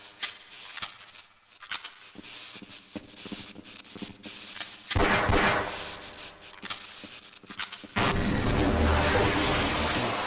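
Gunfire in Half-Life Blue Shift, scattered shots and impacts with two louder heavy blasts standing out, mixed with clanking game sounds.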